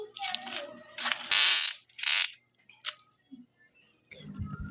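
A frog calls at night by a pond in short, rasping, cricket-like croaks, close and fairly loud in bursts, alongside other scattered outdoor noises.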